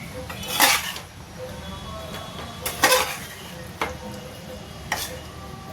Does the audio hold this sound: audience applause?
no